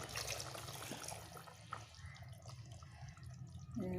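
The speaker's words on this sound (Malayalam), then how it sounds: "നമുക്കിതിലോട്ട് പാൽ ഒഴിച്ച് കൊടുക്കാം" Milk made from powdered milk is poured into a chicken and raw banana curry, giving a soft, steady liquid splashing and trickling sound, close and quiet.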